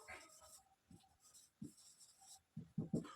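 Given data for a geometry problem is written by hand, producing soft, quiet scratches and taps that come in short bursts, tightening into a quick cluster at the end.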